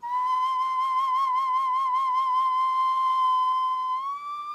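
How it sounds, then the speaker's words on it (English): A steady, piercing stone whistle tone held for about four seconds with a faint pulsing flutter, then sliding slightly higher before fading. "Whistles carved from stone."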